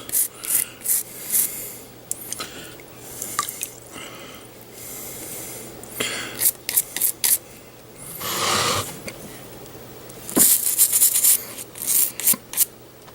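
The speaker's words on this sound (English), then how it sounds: "we're gonna try and scuff it in a couple different directions" Painted scale model surface scuffed in water to chip the paint after the salt is cleaned off, giving close, irregular rubbing and rasping strokes in short bursts with brief pauses, no talking.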